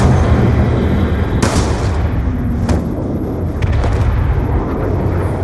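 Gunfire in the Call of Duty Black Ops II story campaign: a few sharp shots crack over a dense, rumbling battle backdrop, loud and close, with no talking.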